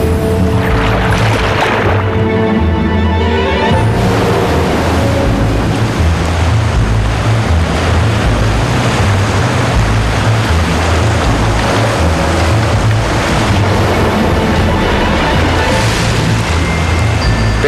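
Loud, continuous rush of surging water with a steady low rumble, like waves churning close by, with no voices.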